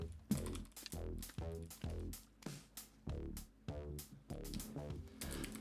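Key presses on a computer keyboard while playing Sons of the Forest, a steady run of separate clicks with a regular rhythm, close and moderately loud, no voices.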